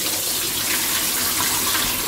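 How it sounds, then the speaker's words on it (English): Brown and basmati rice being rinsed under a running kitchen tap: a loud, steady gush of water that continues unbroken throughout. "I'm gonna wash my rice until it clear,"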